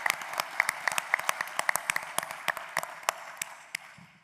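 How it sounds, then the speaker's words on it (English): Scattered audience applause for presenting companies at a private equity showcase event, sharp individual claps ringing out clearly and thinning toward the end, with no talk over it. "just give one round of applause for all of our presenting companies today"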